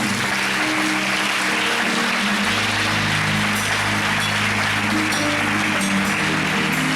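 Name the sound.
applause in a church service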